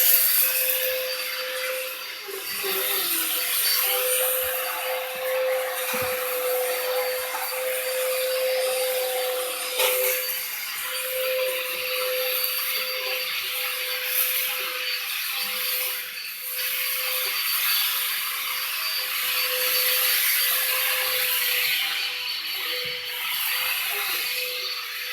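A household vacuum cleaner running at a grandmother's home, a steady loud whirring drone with a constant high-pitched whine, punctuated by faint bumps and rubbing noises as it moves.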